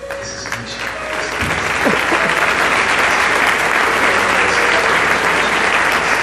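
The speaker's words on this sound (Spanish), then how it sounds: "Un aplauso por favor, muy fuerte a nuestro gran Chucho Barrero." Audience applause at a live symphonic tribute concert in Mexico City, dense loud clapping that swells after a second and holds as a continuous roar of hands from a large crowd.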